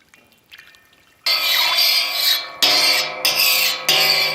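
Faint sounds give way to a loud, continuous hiss and sizzle as pure cold-pressed sesame oil is poured into a hot pan, with brief breaks and surges.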